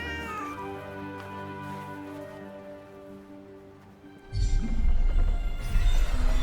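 A cat in the video game Forspoken meows with drawn-out, tonal cries over steady game music, followed by a louder burst of ambient noise.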